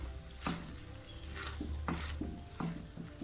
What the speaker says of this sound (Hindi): इसको अब हमने लगातार चम्मच चला के इसको मिक्स करना है